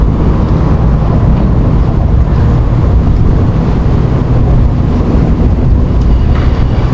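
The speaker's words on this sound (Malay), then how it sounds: "Angin kuat lagi geng." Strong morning wind gusting steadily on Penang Bridge No. 1 during a fishing trip, a loud continuous roar buffeting the microphone, with low rumbling noise like water and passing boats underneath.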